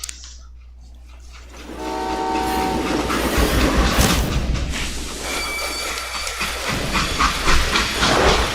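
Steam train in the Red Dead video game, chugging and clattering along the rails with a horn-like tone and hissing steam, loud and close throughout without talk.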